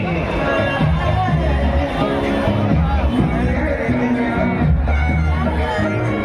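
A dense crowd murmurs and chatters at the Sajgaon village fair. The babble is steady and continuous, with scattered shouts and a low throbbing of music or machinery underneath.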